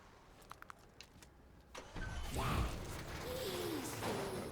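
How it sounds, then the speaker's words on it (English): Vehicle engine starting in Black Ops 7 Zombies, a few mechanical clicks followed by the engine cranking and catching into a rising, steady rumble, close and loud. "Start the engine."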